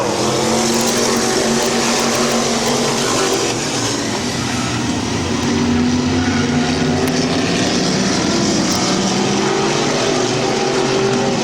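Race cars roar around the oval at Midvale Speedway, a dense, continuous wall of engine noise with several cars droning together at a loud, steady level.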